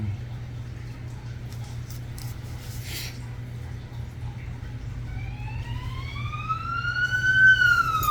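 Low hum fills the background until an ambulance siren wails in, rising and swelling louder as it approaches.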